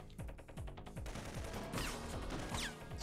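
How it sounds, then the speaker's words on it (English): Video game gunfire from Syphon Filter, with a rapid run of shots and bursts going off continuously, loud and close, with an automatic weapon's repeated cracks dominating and no talking. "Guy's shooting me, but can't get the aim on us."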